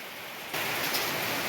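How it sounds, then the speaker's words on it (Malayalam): Evening rain comes in suddenly as a dense, even hiss that rises partway through and then holds steady and fairly close, with no voices. "സന്ധ്യാസമയത്തെ മഴ."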